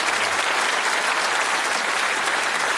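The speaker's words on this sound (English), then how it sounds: "Give him all a round of applause." A studio audience at the Bullseye game show gives loud, sustained applause, a thick, continuous roar of clapping at full strength throughout.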